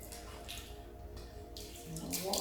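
Hot water poured by hand to mimic a shower during a self-build micro home project, a soft running, splashing stream with a brighter gush near the end, close and fairly quiet.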